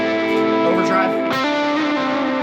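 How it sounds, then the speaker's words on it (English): A sustained, gritty overdriven electric guitar tone from an overdrive pedal on a mini pedalboard rings out with thick harmonics, loud and continuous, shifting pitch once midway. "Overdrive."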